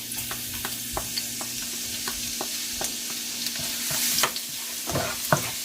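Garlic frying in hot oil for fried rice, a steady sizzle broken by scattered crackles and the clicks of a utensil stirring the pan.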